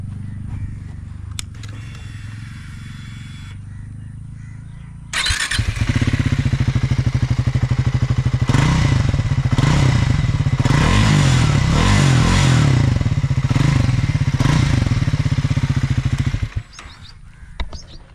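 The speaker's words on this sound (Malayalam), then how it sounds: "ഇതിൻ്റെ എക്സോസ്റ്റ് നോട്ട് ഒന്ന് കേൾപ്പിച്ചു തരാം" A Triumph Speed 400 single-cylinder 400 cc motorcycle starts after a quiet idle-less pause, then runs with a loud, steady exhaust note and several rising revs before cutting back down near the end; no talk is heard.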